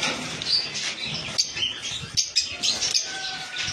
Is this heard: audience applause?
no